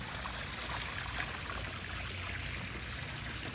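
Pump-circulated water flows steadily through a 3,000-gallon koi pond fed by two pumps, a constant close trickling and splashing wash with no other sounds.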